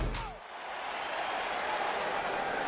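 A wrestling arena crowd at a RAW event bursts into sustained applause and cheering, a dense, even wash of clapping that swells after a brief dip and holds steady to the end.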